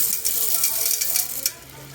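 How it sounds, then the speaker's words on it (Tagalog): A pot of Filipino chicken macaroni soup being stirred as macaroni is mixed in, with a close sizzling hiss and scraping, clattering stirs that settle toward the end. "Mix it together again."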